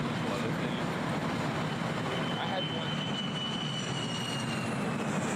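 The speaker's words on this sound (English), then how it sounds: "That sounds like a plane." An airplane passes overhead in 9/11 documentary footage, heard as a steady, loud, broad roar that holds evenly throughout with no voices.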